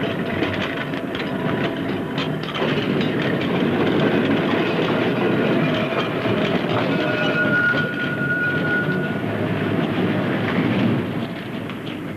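A tram runs on reserved track along an extended British suburban route, giving a steady rolling rumble with faint rail clatter and a thin high squeal in the middle, continuous and fairly close throughout.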